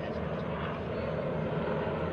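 GEICO Skytypers vintage propeller planes fly in tight formation over an airshow crowd at a joint services open house, a steady, loud droning engine roar that holds evenly throughout with no break.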